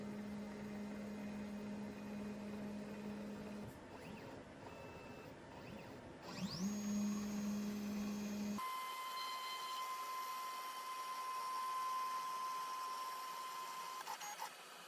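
A Genmitsu 4040 PRO MAX 710W CNC router homes its axes, giving steady whining stepper-motor tones that shift pitch, pause briefly, glide, then settle into a sustained high hum against a constant mechanical drone, with no voices.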